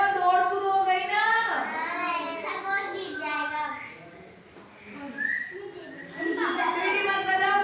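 Children whistling during a storytelling activity, several shrill, wavering whistles rising and falling over one another, close and fairly loud, with children's voices mixed in.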